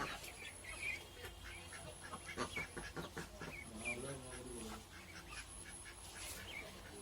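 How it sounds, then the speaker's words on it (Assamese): Ducks quacking faintly in a home yard alongside chickens, with scattered calls at a distance and a soft background murmur. "সেইফালে হাঁহ"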